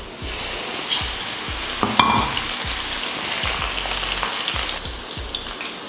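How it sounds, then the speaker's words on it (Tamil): About ten crushed garlic cloves fry in hot oil for a Diwali mixture snack, a steady close sizzle with repeated stirring scrapes and occasional utensil clinks. "நல்லா பூண்டு மொறுமொறுப்பாக வர வரைக்கும் வறுத்துக்கோங்க"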